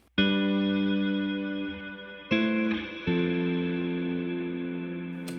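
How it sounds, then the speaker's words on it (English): Guitar through an HX Stomp Secret Sauce preset with only reverb on, delay and modulation off: three sustained strummed chords ring out, each decaying into a lush wash of reverb tail, with no talking. "This is just the reverb, and it sounds like this."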